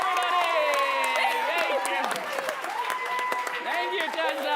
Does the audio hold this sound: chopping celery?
no